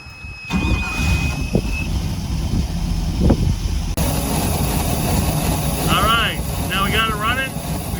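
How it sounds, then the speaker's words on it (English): A Mercruiser 5.7L engine on a Crownline boat idles on flushing muffs while it warms up, a steady low rumble running throughout with someone talking over it. "the first thing we're going to do is warm up the engine"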